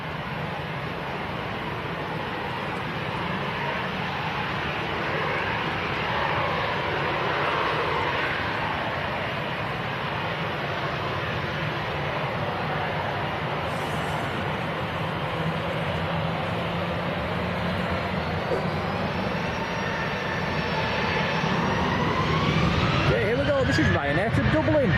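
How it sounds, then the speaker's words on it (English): An Avanti Air aircraft takes off from a runway at Manchester Airport in the evening. A steady, broad engine roar fills the whole stretch, with a rising whine building near the end. "Should see that Avanti Air taking off on this runway as well."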